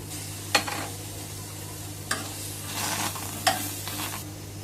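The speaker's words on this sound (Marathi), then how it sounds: "आता एक टोमॅटो आहे पहा त्यालाही आपल्याला भाजून घ्यायचं आहे" A tomato roasting in a pan, a low steady sizzle broken by three sharp clicks or taps of a utensil against the pan, quiet and close.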